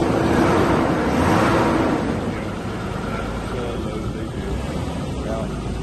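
A 1989 Jaguar Sovereign engine runs steadily at idle, a continuous broad rumble that is louder for the first two seconds and then settles to an even drone, with someone talking over it.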